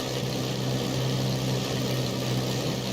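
A Spitfire Mk1A engine in Microsoft Flight Simulator holds a fast idle at raised revs, a steady low droning rumble with a constant hum, sustained and even with no talk.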